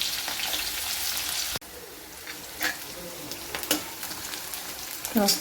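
Onions fry with a spoonful of cumin seeds in oil for a chana bhaji, a loud continuous sizzle that dips after an abrupt cut, then continues more softly with scraping stirs and faint cooing birds behind.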